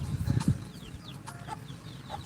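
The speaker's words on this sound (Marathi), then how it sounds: "बघा कोंबडी कशी आहे एकदम वजनदार आणि हे त्याचे बच्चे म्हणजेच पिला" A heavy hen clucks low and close a few times, followed by faint high peeping calls from her chicks scattered softly in the background.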